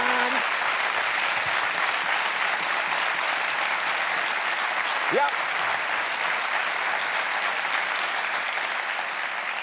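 Steady, dense applause from a large audience at a German satirical comedy show runs throughout, loud and continuous, with a brief spoken word partway through.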